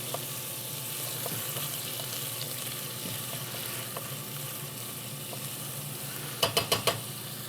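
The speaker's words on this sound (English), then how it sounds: "So we've got the butter just melting. We're gonna add our garlic. We're gonna add our ginger." Garlic and ginger sizzle in melting butter with a soft, steady crackle, and a few quick clinks of a utensil against the pan come near the end.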